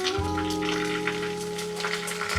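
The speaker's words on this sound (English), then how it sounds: "Listen to that sizzle." Chicken sizzles steadily in a hot pan, a soft crackling hiss over a constant low hum with no talking.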